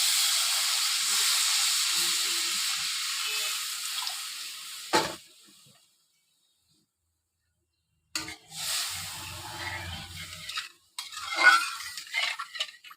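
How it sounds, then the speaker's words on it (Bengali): Water poured into fried spice paste in a pan sets off a loud hissing sizzle that fades to silence, then softer sizzling and bubbling resumes with some stirring and clattering. "এবার আমি জল দিয়ে দেবো।"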